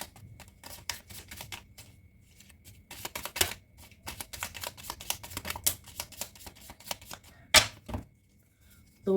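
Tarot cards are shuffled and drawn by hand in a quiet room, making rapid, irregular papery clicks and flicks in clusters, with brief pauses and a few louder snaps near the end.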